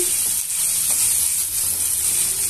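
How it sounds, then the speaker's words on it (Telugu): Chopped onions and green chillies fry in hot oil for Mysore masala dosa, giving a steady, close, even sizzle with no voices. "ఉల్లిపాయలు, పచ్చిమిరపకాయలు బాగా వేగనివ్వాలి."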